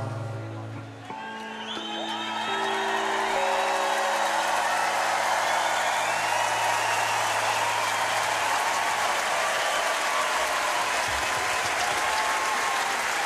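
A large concert crowd at Accor Arena in Paris applauding loudly, with cheers and whoops that swell into a dense, sustained ovation after fading musical tones at the start.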